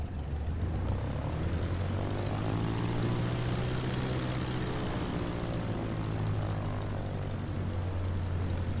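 Propeller airplane taking off in a VR flight simulator, a loud, steady engine drone with a rising and falling propeller hum that fills the whole stretch without speech.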